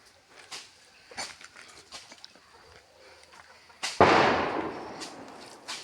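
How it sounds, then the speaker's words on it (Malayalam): Firecrackers burst for Diwali in Gudalur: scattered faint distant pops, then one loud nearby crack with a long rumbling tail and further pops, heard outdoors. "പടക്കം പൊട്ടുണ്ട്."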